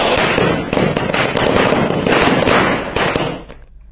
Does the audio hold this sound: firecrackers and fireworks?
yes